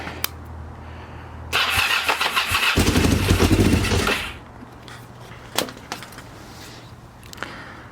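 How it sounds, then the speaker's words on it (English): A Kawasaki Ninja 500 motorcycle, long abandoned, cranks with a whirring starter for a couple of seconds, then briefly catches with a louder rough roar before dying back to quiet, followed by a few faint clicks. "Let's give it a crank."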